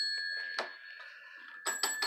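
A bicycle bell rings with a steady bright tone, then three quick sharp rings near the end, close and clear.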